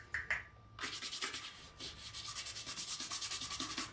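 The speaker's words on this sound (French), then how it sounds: "le fait d'utiliser la brosse à dents, ça va vraiment enlever comme toutes les petites particules" A toothbrush scrubs the elastics and seams of hiking gaiters, making close, rapid rhythmic bristle rubbing that speeds into quick even strokes, preceded by a few light taps.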